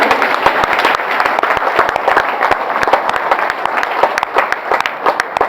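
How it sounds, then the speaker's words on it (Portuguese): A church congregation gives a long burst of loud, dense applause, many hands clapping close by in a steady, unbroken stream. "Você pode dar mais um forte aplauso ao Senhor aí?"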